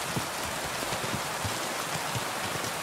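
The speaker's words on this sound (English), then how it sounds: "Don't mind the rain" Rain falls in Kingdom Come Deliverance 2, a steady hiss with soft patters of drops on surfaces, even and continuous at moderate volume.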